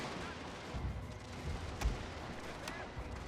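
A hidden enemy unit fires on troops in a historical strategy game, distant muffled gunfire and artillery-like thumps rolling under battlefield ambience, with a couple of sharper cracks standing out.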